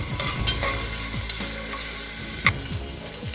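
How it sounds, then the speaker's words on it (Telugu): Small pieces of ginger and garlic fry in hot oil, a loud close crackle and sizzle with repeated scraping stirs and one sharp clink. "దాంట్లో 1 ఇంచి అల్లం ముక్కల్ని చిన్న ముక్కలుగా వేసుకొని దాంట్లో వేసుకోవాలన్నమాట ఆయిల్లో"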